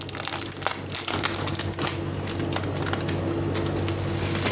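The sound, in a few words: crinkling plastic bag of kofta spice mix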